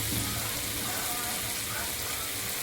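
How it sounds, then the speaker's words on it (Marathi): Kalji masala sautés in a pan with a dense, steady sizzle that carries through the short stretch at an even level, close and unbroken. "हा छान परतून घ्यायचं आहे."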